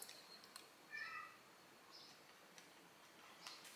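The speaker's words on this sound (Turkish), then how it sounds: "Az önce bir miyavlama sesi geldi." A house cat meows indoors, a couple of faint, brief calls standing out against a very quiet room.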